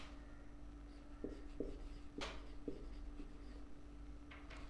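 Marker or chalk strokes on a board during a reasoning lecture come as a handful of faint, short scratches spread over a few seconds against a quiet room hum, with no voices.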